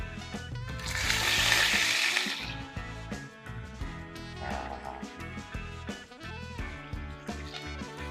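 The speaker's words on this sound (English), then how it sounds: "I'm going to drop this in here into the bacon grease" A Walmart wagyu steak drops into hot bacon grease in a pan and sears with a loud burst of sizzling that soon settles into quieter, uneven crackling and spitting.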